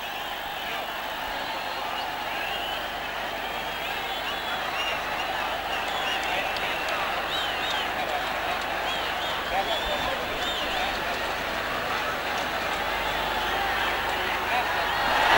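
Crowd at a Nepal versus Namibia World Cricket League match applauding and cheering as a batsman arrives, a steady dense roar of clapping and voices that swells slightly toward the end.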